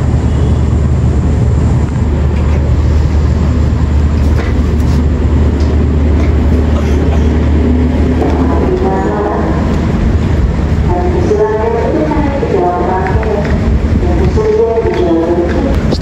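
Mataram economy passenger train at Bekasi station, platform track 3, giving a steady loud rumble of rolling stock with low mechanical hum and faint squeals, no voices clearly standing out.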